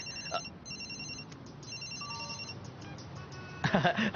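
A cell phone ringtone plays a repeating electronic melody of high beeping tones, fairly close, ending with a louder burst of sound.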